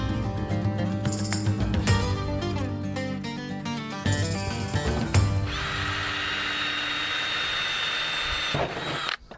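A power drill whirs loudly in bursts, spinning up and biting into a camper roof, with a sustained high-pitched run near the end before cutting off.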